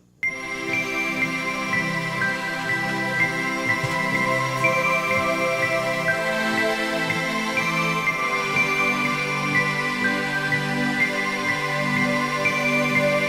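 Layered strings and bells from a Yamaha Montage keyboard play together in a full, sustained texture, with chiming bell notes sitting over steady string chords. The sound starts abruptly and plays alone at a fairly loud level.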